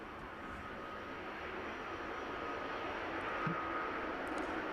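At East Midlands Airport, an airliner that has just landed on runway 27 taxis off the runway, giving a steady, broad engine roar that swells slightly, heard from nearby outdoors with no speech.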